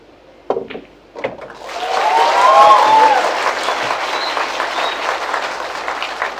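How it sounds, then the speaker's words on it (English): A crowd at a 10-ball pool world championship match breaks into sustained applause and cheering after a few sharp knocks, the clapping swelling loud and then holding steady to the end. "And there's the crowd."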